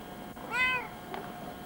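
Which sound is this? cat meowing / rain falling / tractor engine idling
cat meowing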